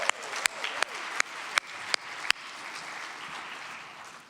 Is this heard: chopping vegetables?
no